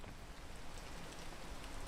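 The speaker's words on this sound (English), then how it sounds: "When it's raining." Steady rain pours in the climbing video game PEAK, a dense, even hiss of falling drops that holds at a constant level throughout with no voices over it.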